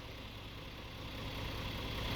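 Scania truck engine fitted with a turbo combustion improvement system, idling with a steady, dense mid-to-low rumble that swells slightly toward the end, no voices.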